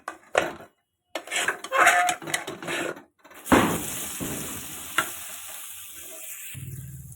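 Salt and turmeric hitting hot oil for a pea kachori filling: metal spoon clinks and scrapes against the pan, then a loud burst of sizzling frying that settles into a steady hiss.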